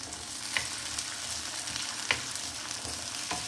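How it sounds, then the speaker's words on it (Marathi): Tomatoes sautéed in a pan for a cucumber curry, with a continuous soft frying hiss punctuated by a few light spatula clicks against the pan, close and alone with no talking. "आणि त्यानंतर आपण टोमॅटो टाकूया। टोमॅटोला सुद्धा आपण छान परतून घ्यायचं"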